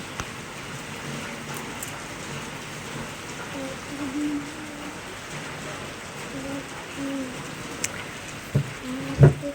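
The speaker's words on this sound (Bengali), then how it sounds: "কি হারে বৃষ্টি" Steady rain falls through a monsoon day near the Bengal coast at Mandarmani, a constant dense hiss with a few louder drips and taps toward the end, no voices.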